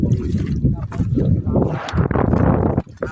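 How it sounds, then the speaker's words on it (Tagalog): Strong wind buffeting a microphone outdoors near water, heavy low rumbling gusts that surge and drop unevenly for about three seconds. "Napakalakas ng hangin"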